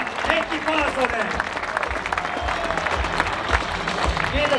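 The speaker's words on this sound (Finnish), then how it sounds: "Iso aplodit itsellenne" Applause from a crowd at a HIFK event, steady dense clapping throughout with talk mixed in.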